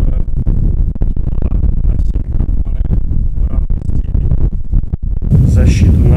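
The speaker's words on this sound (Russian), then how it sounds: "Включаю вентилятор на самую большую мощность." An electric fan running at full power blows straight onto microphones, producing a loud, continuous low buffeting roar with uneven gusty surges. A brighter burst of hiss arrives near the end.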